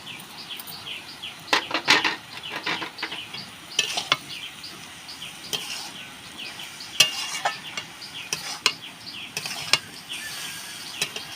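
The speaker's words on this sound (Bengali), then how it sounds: "এবার আমি এই আদা বাটাটা দিয়ে দেবো।" Ginger paste hitting hot oil in a pan and frying, a close steady sizzle broken by sharp scraping and clinking as a spatula stirs, with no talking.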